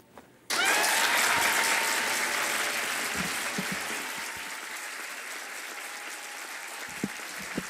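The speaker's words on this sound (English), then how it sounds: "Let's give a round of applause" Audience applause for performer Juan Rodriguez breaks out suddenly after a brief quiet moment, loud and dense at first, then gradually thinning as the clapping tapers off with a few scattered claps near the end.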